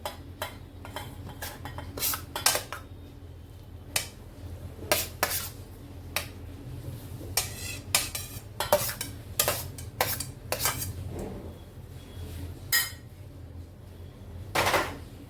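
Vegetable pulao salad with beetroot, cucumber and coriander being mixed in a bowl, a run of sharp close clinks and scrapes of a spoon against the dish over a low background hum, no voices.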